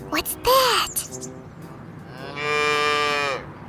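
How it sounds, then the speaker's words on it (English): A cow moos loudly in one long, drawn-out call near the end, after a few brief higher squeaky calls at the start, heard close with no talk. "It's a cow."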